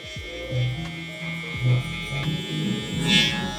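Barber's electric hair clippers run with the lever open, giving a steady close buzz with a low hum that swells and dips as the blades move through hair.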